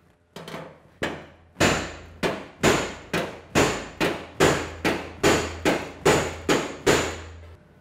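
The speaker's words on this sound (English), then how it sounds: "I finished all my hammering and got the flanges to meet up nice and perfect" A hammer strikes a dolly held against a Porsche 912 steel floor pan flange in about thirteen sharp, ringing metallic blows, spaced in a steady, even rhythm after a couple of slower opening hits, close and loud with no talk.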